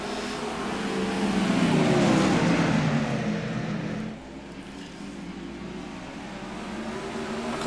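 Engines of a pack of race cars roar as they take the green flag for a heat race at Lakeland, a rising then steady droning rumble that swells and eases slightly, continuous and fairly loud.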